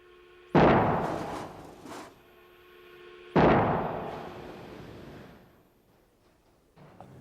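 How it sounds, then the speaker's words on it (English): Two sudden, loud cracking bangs a few seconds apart as a Boeing 747 airplane wing breaks in a load test, each a violent break that decays into rumbling debris and rattling, followed by a smaller thud. "that's quite a scene to watch it when it finally lets go. I mean, it sounds like an explosion."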